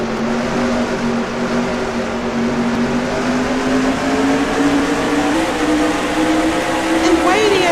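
NASCAR Truck Series race trucks at full speed, a loud sustained engine drone whose pitch slowly rises as the pack stays close, with race commentary talk over it.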